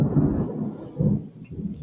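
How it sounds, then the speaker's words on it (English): Deep thunder rumbles heavily in two rolling swells, a low, booming outdoor sound with no voices over it. "can y'all hear that thunder over the microphone? Because it's shaking the trees."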